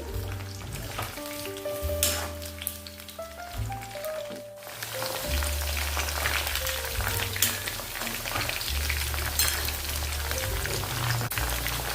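Cauliflower florets frying in hot oil for a dhaba-style gobhi aloo dish, a steady dense sizzle and crackle running throughout at close range, with background music underneath and no talking.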